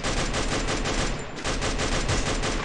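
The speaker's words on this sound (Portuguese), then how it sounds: "Um tiro esse que passou aí, mano." Gunfire crackles in the battle royale mobile game Free Fire, a rapid, dense burst of shots with a brief dip midway before the volley resumes, loud and continuous.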